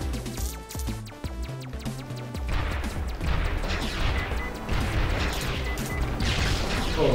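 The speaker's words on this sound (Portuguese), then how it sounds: "tá brutal as explosões" Explosions and crashing blasts in the shooter video game Sky Force Anniversary, a dense run of booms and impacts with layered game music and effects.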